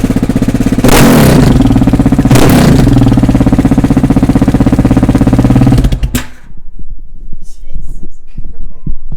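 A KTM 690 Enduro motorcycle with its exhaust baffle removed revs very loudly up close in repeated rising blasts, then cuts to a low, rough, uneven idle.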